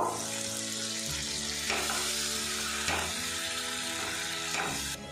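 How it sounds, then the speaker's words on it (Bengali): Grated tomato stirred into fried ginger-garlic paste in a hot pan, a loud continuous sizzle with scraping spoon strokes at a few spots. "এবারে এর মধ্যে দিয়ে দেবো গ্রেট করা টমেটো। আমি কিছুক্ষণ নাড়াচাড়া করে নেব।"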